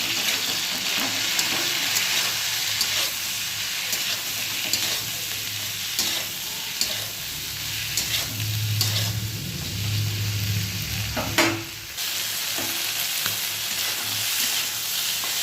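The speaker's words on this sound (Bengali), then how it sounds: "এবার ভালো করে নেড়ে দেবো।" Okra frying with turmeric in a pan, stirred with a utensil: loud nearby sizzling under repeated scraping and clattering strokes, with a low rumble partway through and no voices.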